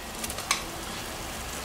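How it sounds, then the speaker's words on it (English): Shrimp, broccoli, onions and peppers get stirred in soy sauce in a hot pan, giving a faint sizzle with a brief scrape of the utensil, quiet and short with no talk. "Give this a stir, turn the heat off."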